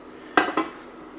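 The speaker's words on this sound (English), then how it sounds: "Give that a nice little whisk up." Eggs being whisked in a bowl for a sautéed potato omelette, heard as two sharp metallic clinks close together, close and clear against a quiet room.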